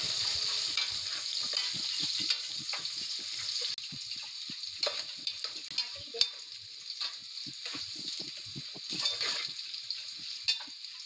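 Onions fry in a pan until golden for an aloo kurma, giving a continuous bright sizzle with frequent stirring clicks and scrapes. Close and fairly steady, with no voices.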